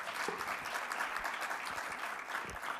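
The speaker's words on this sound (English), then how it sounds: "that deserves a round of applause." An audience applauds during a welcome address, a steady, dense wash of clapping that holds evenly for about three seconds with no voices over it.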